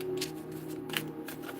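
Tarot cards are shuffled close up in a soft, continuous riffling rustle with rhythmic papery swishes over a low steady background hum.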